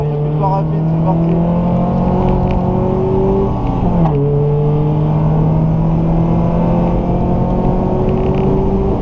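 A classic race car at Magny-Cours accelerates hard from inside the cockpit, engine loud and close, pitch climbing through gears with a shift midway, under steady talk from occupants.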